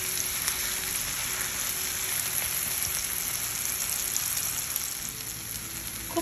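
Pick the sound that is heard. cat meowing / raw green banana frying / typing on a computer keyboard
raw green banana frying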